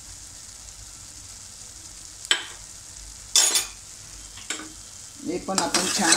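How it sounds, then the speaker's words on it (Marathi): Spice masala of Kashmiri red chilli powder and onion-garlic masala cooks in oil for misal tarri. A low background hiss is broken by a few short, loud scrapes of a spoon stirring in the pan, with a brief spoken remark. "अगदी तेल सुटेपर्यंत परतून घेऊया."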